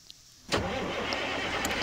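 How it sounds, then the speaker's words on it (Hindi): A tractor engine in a farming video game cranks and catches after a short quiet pause, then runs on as a steady, loud, buzzing idle. "start engine,"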